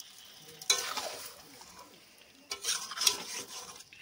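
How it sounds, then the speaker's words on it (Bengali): Mango pieces being stirred with melting sugar in a pan for tangy, spicy, sweet mango pickle: two bursts of soft scraping and sticky stirring from a spoon against the pan, close and quiet, with gentle simmering between. "আমের টুকরোগুলোকে খুব ভালো করে মিশিয়ে নিতে হবে।"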